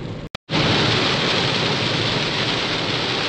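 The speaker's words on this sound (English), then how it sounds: "It's pouring, man, crazy." Heavy rain pours down around a 2019 Hyundai Kona EV on a twisty road, a dense, steady roar of rain that starts after a brief cut and stays loud and even throughout, with no talking.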